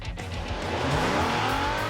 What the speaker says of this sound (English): It's no different than if I race this engine at full throttle